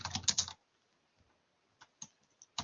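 Brief bursts of typing on a computer keyboard: a quick flurry of clicks, a pause, then a few scattered keystrokes, close and fairly quiet.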